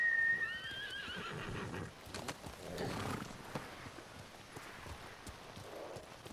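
A horse whinnies loudly in the video game Ghost of Tsushima, a rising and falling neigh at the start followed by snorts and hoof clops on the ground in a quiet outdoor scene.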